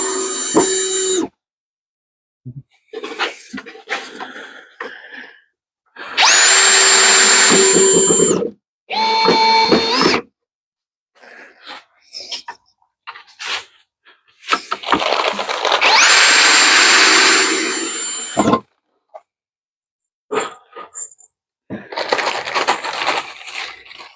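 A power drill drives screws into a wooden bee box, whining loudly in several sustained runs close by, with clunks, handling knocks and short gaps between screws.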